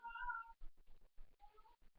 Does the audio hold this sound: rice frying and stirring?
no